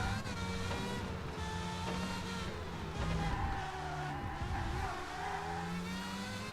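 A car in Toca Race Driver 3 jump-drifts through a turn, its engine revving and shifting pitch while tires skid and squeal, a continuous racing roar of engine and tire noise with no talking.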